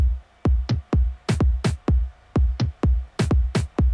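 Tom drums and a kick drum play together in a punchy rhythmic pattern, each hit booming and decaying quickly, loud and close.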